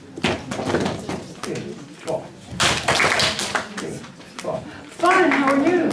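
A classroom group claps out a rhythmic hand-clapping pattern in a call-and-response drill, sharp bursts of claps interleaved with children's voices chanting, ending in a louder stretch of speech over the claps.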